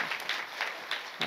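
Audience clapping along in rhythm during a Marathi kirtan performance, steady bursts of hand claps repeating roughly every third of a second, moderately loud with no voices on top.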